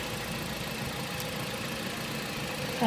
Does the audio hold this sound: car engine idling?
yes